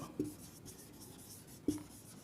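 A pen or chalk writes a sentence in an English lesson, soft scratchy strokes with two sharper taps, faint and close over a quiet room.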